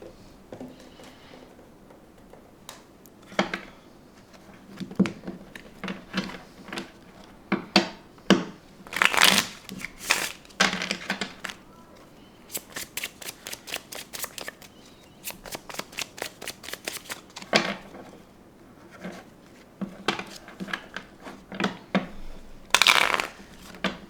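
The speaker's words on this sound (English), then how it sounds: "this is a really bad shuffle I'm doing right now, because this card is a little bit stiff" Stiff tarot cards are shuffled by hand in irregular bursts of riffling and crisp flapping, close and fairly quiet, with short pauses between the rustling runs.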